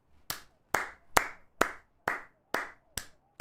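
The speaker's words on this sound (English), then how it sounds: "Clap it up. Clap it up," Hands clap eight times in a steady, evenly spaced rhythm, each clap sharp and close with a brief ring after it, with nothing else heard between them.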